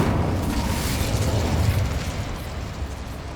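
A Confringo blasting spell explodes in the Hogwarts Legacy video game, a loud, dense rumbling boom that holds steady for a few seconds before easing off slightly.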